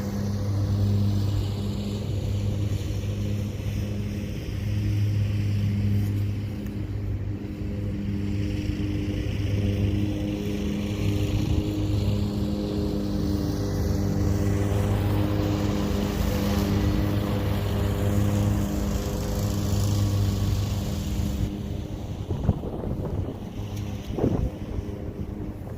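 A lawn mower runs nearby on a soccer field, giving a steady, droning small-engine hum that holds fairly loud and unbroken throughout with faint wind noise and no talk.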